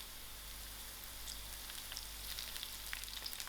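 Curry leaves hit hot oil with garlic and crackle in a faint, steady sizzle, with a few brighter pops scattered through the frying and no voices.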